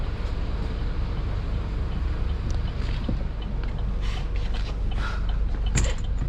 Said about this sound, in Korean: 이 엔진 소음을 한번 들어보시라는 거예요